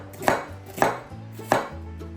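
A knife chops thick slices of onion, three distinct close thuds against a cutting board at an even pace, with no talking.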